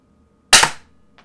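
RAP4 RAM combat pistol firing a single sharp, loud pop at a target from about 20 feet, followed by a faint short tap moments later.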